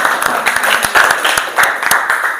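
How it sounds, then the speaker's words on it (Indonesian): A class of students claps together during a teacher-training lesson in an Indonesian classroom, sharp distinct claps that come in a loose rhythmic run, close and loud. "Tepuk tangan untuk kita semua."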